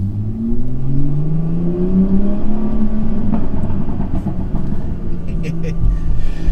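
A BMW 340i Performance engine accelerates with a steady rising drone that climbs in pitch, loud and close, while someone talks over it.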